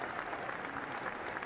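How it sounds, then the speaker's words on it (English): Applause fills the U.S. Capitol Rotunda at a presidential inauguration, a dense, steady patter of many hands heard at a distance and fairly faint. "And now you hear the applause from inside the U.S. Capitol Rotunda as President-elect Donald Trump stands next"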